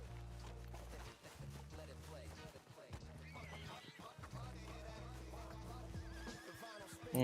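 Horse in the video game Red Dead Redemption 2 Online, with hoof clip-clops and a whinny over steady game music and background sound; someone talks through it.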